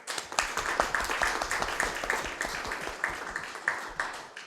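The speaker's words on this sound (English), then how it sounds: "So give them a round of applause." Dense, steady applause from a crowd, many hands clapping at once with scattered louder claps throughout, continuing without a break.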